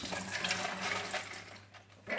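Strawberries rinsed under a running kitchen tap, a steady close rush of splashing water that lasts throughout and eases slightly near the end.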